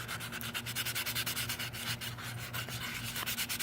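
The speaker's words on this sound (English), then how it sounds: "you could sand out the top. That sound gives me goosebumps." Rhythmic scratchy rubbing of sandpaper inside a hollow gourd, quick repeated strokes, close and fairly quiet, no talking.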